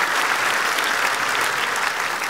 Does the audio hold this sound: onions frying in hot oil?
no